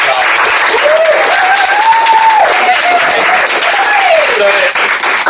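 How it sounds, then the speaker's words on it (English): An audience at a corporate event gives a loud, continuous round of applause, dense clapping filling the room while a voice calls out over it. "Everyone, please give a huge round of applause."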